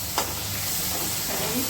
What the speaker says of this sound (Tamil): நல்லா வதக்கிட்டு